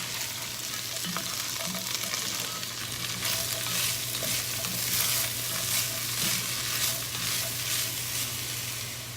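Chopped onion, finely chopped potato and carrots stirred in a pan for split pea soup give a close, continuous sizzle with scraping stirring strokes and soft clatter, and no voices.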